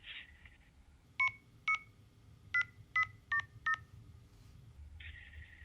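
Six short telephone keypad beeps, dual-tone presses in an uneven quick rhythm, heard close over a faint low background hum.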